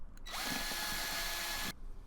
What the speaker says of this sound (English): I tape them into place and then drill the 1/8 inch holes